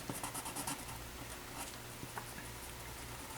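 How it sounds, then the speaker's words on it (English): Pencil on paper drawing a hand, giving soft, faint scratchy strokes in quick bursts, quiet and close, with no talking. "we recommend that the practice be carried out with a pencil"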